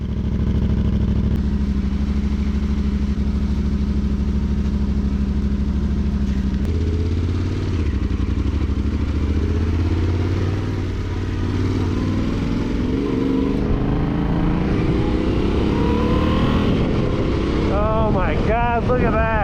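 Motorcycle engine on a test ride after a clutch fix, a steady loud drone that rises in pitch as the bike accelerates, with wind rush and revving sweeps near the end.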